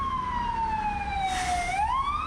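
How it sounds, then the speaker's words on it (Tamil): Ambulance siren in heavy city traffic in Istanbul, a single wailing tone gliding steadily downward then climbing again, heard at mid distance over a low rumble of engines. "அதுவும் இவ்வளோ டிராஃபிக்கில் வந்து, அதுவும் இந்த இடத்துல வந்து ஆம்புலன்ஸ் வருது"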